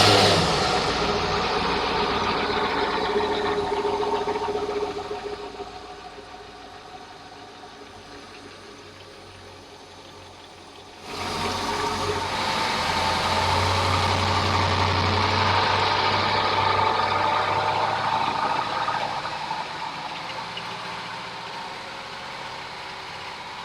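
The port inboard engine of a 1989 Tiara 36 Convertible boat idles steadily with a low rumble, dipping briefly before rising again as it settles into a continuous, fairly close drone.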